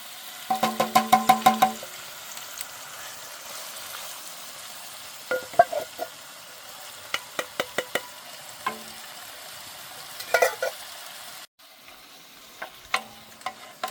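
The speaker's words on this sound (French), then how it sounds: "Là je vais mettre les champignons." Canned mushrooms go into a frying pan for risotto in a camper van kitchen, with a rattling, scraping tumble followed by scattered clinks and stirring knocks over a faint steady sizzle.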